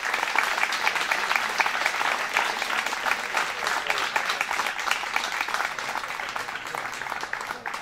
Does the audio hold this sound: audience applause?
yes